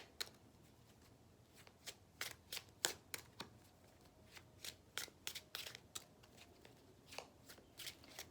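Tarot cards being shuffled by hand, with a series of crisp, quiet riffling bursts at an irregular rhythm, close by and heard alone.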